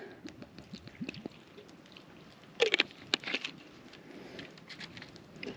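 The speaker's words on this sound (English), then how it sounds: "And then to this, we're going to add some apple juice." Apple juice poured into a pan of braised red cabbage, a brief soft splash and patter over a couple of seconds amid faint kitchen clatter.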